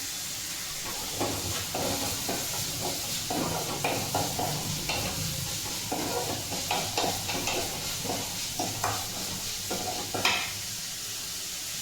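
Onions sautéing with a pinch of salt in a pan for Bombay chutney, a steady close sizzle with scraping stir strokes throughout and no voices.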